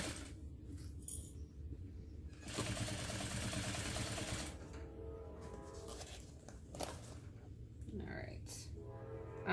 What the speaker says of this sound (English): As I sew over the handle ends and the connectors, I am back stitching